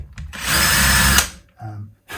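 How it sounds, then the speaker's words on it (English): A power drill cutting a countersink in an early vintage left-handed Stratocaster whirs steadily for about a second, then winds down, followed by a couple of short bursts, close and loud. "So I'm just going to cut in a countersink"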